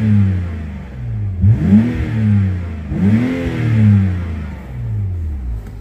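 A 2011 small car's engine revs twice, climbing sharply and falling back to idle each time. Close and fairly loud, with no talking.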